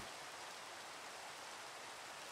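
Minecraft rain forms a steady, even hiss of falling water with no changes, soft and constant, with no voices.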